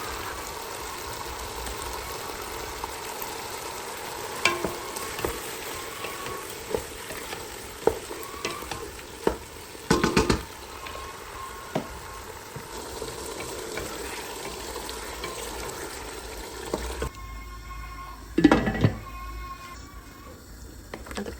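Pulao frying and being stirred in a pot in a home kitchen, a steady sizzle running throughout with occasional scraping stir clicks and a few louder clanks, no talking.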